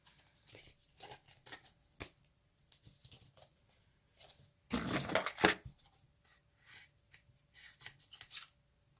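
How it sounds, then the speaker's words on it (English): Soft crinkles, taps and rubbing as washi tape is unrolled and pressed onto a vintage art journal page, quiet and close, with one louder tearing burst near the middle. "Put a little bit of washi tape down the center."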